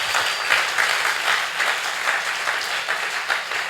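A church congregation applauds the Lord with sustained, dense clapping, loud and steady throughout.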